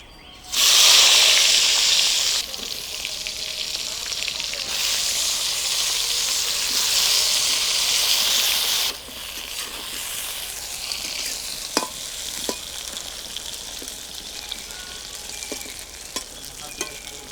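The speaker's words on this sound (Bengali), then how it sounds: "মাছ ভাজা হয়ে গেছে, এই তেলটাতে আমি বেগুনটা ভেজে নেব।" Eggplant slices dropped into hot oil left from frying fish sizzle loudly at first, then settle into a steady crackling hiss with occasional sharp pops and spatula scrapes.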